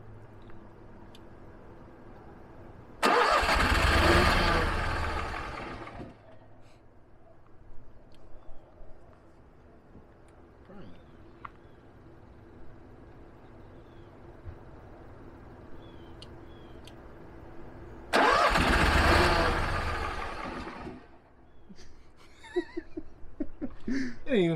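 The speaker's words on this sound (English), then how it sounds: "We should fire it up because it's like right there." A $5000 generator, overdue for service and just given a new filter, is cranked twice: two loud, rough bursts of a few seconds each, well apart, with quieter rustling between them and no steady running.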